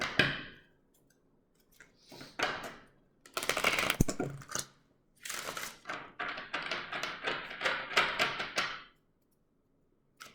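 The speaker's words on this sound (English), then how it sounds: "I cannot shuffle today." Tarot cards being shuffled by hand, several short bursts of riffling and flicking separated by pauses, close and fairly quiet, with a longer run of rapid shuffling near the end.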